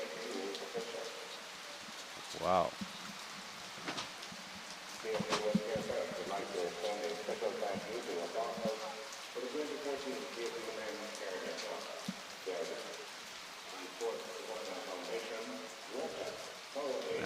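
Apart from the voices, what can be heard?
heavy rain falling on a football match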